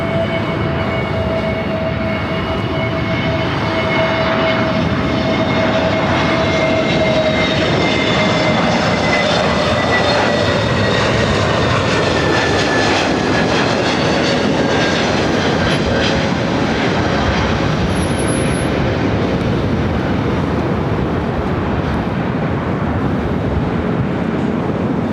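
An Airbus A380 jet spools up and takes off from runway 24 left at LAX, a loud, continuous roar of engines with a rising whine that swells and holds across the whole stretch.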